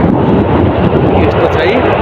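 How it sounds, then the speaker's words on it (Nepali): Cold wind gusts hard across an open spot beside a railway line while someone waits for a train, a loud, close roar buffeting the microphone without a break. "हावा चलिरहेको छ, लास्टै चिसो कस्तो जाडो छ यार यहाँमा, पुरै हावा चलिरहेको छ"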